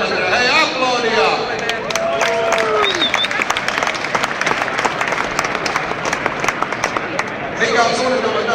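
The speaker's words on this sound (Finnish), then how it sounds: "Hei, aplodia!" Applause from a crowd greeting a team arriving after a 1,639-kilometre journey, loud rapid clapping mixed with voices and cheering, with people talking over the start and the end.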